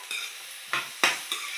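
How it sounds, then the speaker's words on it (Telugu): Vegetables for oats khichdi fry in a pan, quiet sizzling punctuated by three or four short, bright scraping strokes as they are stirred, close and without speech. "ఒకసారి ఫ్రై చేసుకుందాం."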